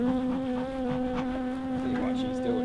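Honeybees swarming around an opened beehive with honeycomb supers and brood frames, a steady, dense, close buzzing drone that holds throughout without pause.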